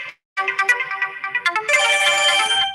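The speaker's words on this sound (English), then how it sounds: "I thought I turned off all the notifications" A phone's notification ringtone chimes loud and close, a bright melodic run of tones that swells into a sustained ringing chord after a brief silence at the start.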